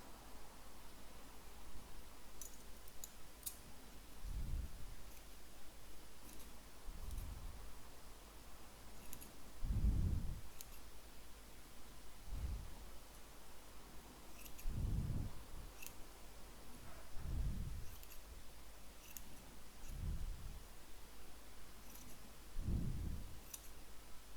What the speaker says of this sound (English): just cut it a little bit so our pom-pom looks symmetrical around